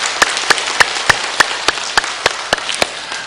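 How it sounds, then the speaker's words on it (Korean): A church congregation at Uam Church claps in thanks, slow, evenly spaced loud claps about three per second, crisp and uniform, over a faint wash of scattered clapping in the room. "우리 하나님 앞에 한 박수로 감사를 드려봤으면 좋겠습니다"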